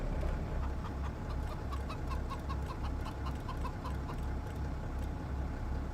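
Chickens on a Farming Simulator 25 farm cluck in a steady run of short repeated calls over a constant low engine-like drone, with no talk.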